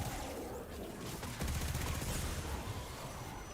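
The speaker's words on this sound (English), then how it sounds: "Being sniped." Sniper fire and a dense crackle of gunfire from the shooter game Destiny 2, loud and continuous, with a heavier burst of shots in the middle.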